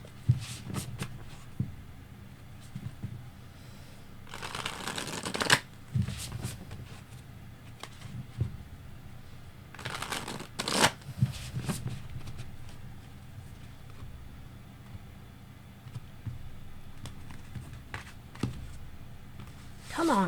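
Tarot cards shuffled by hand, soft riffling bursts and repeated taps, close and quiet, with a couple of louder shuffles and faint talking in the background.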